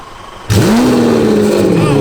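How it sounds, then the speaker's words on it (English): After a brief quiet moment, a car engine starts up suddenly and holds a loud, steady rumbling roar nearby. "can you guys all rev your cars? I want to hear the engines."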